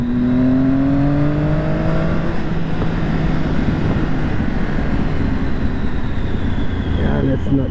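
A motorbike riding through city streets, engine droning and rising in pitch early on, then a rougher steady roar with wind rush; a voice talks over it.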